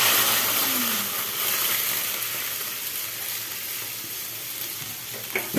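Half-boiled vegetables for shukto sizzle and hiss in a hot kadai, a loud spattering fry that slowly settles, with a brief clink of stirring near the end and no talk.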